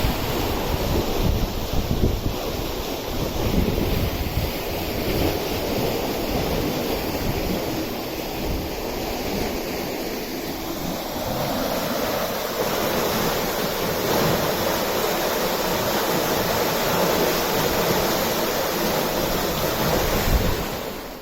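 Strong wind on the Oxford Canal roars steadily against the microphone aboard a narrowboat, alongside rushing water, a loud continuous noise with no speech.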